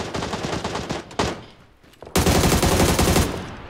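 Gunfire in the battle-royale game PUBG on the Sanhok map: dense, rapid bursts of automatic shots, a short volley, a lull with a single crack, then a louder sustained burst of fire without speech.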